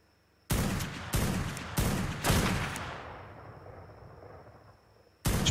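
Gunfire in the survival game ARK during a player-versus-player island attack: four loud, sharp bursts in quick succession, the last ringing out into a long decaying echo before a fresh shot hits at the end.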